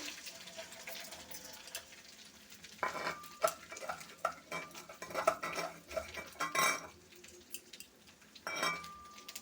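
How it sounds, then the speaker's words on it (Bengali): Mung dal stirred and fried in a pan with ginger paste, with repeated scraping and clinking of a utensil against the pan over a soft sizzle, the strokes growing busier midway. "মুগ ডালটা একটু ভেজে নেব"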